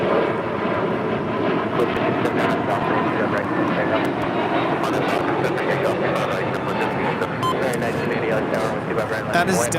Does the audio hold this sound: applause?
no